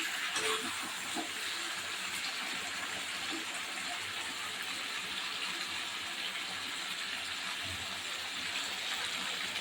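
Chicken kosha sizzling and frying in a pan in a home kitchen, a dense steady hiss that holds evenly throughout with no talking.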